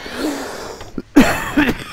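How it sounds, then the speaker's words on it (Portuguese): A single person coughs once or twice, short and close, with a throat-clearing quality and brief quiet before it. "Desculpa a tosse."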